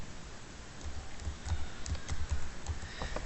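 Soft, uneven taps on a computer keyboard, fairly faint against a steady background hiss, with a few slightly louder key strikes standing out.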